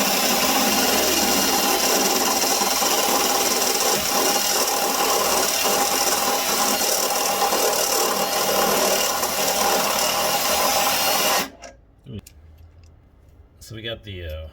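A step bit drills a 9/16-inch hole for a fuel system fitting on a 1956 turbo VW Beetle, a loud sustained rasping whine lasting about eleven seconds before cutting off, followed by quiet clicks and handling sounds.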